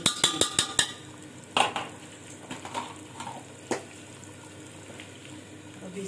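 Green chilies are stirred in a frying pan, with a quick run of sharp spoon-on-pan clinks at the start, then sparser scrapes and taps over a faint, quiet sizzle.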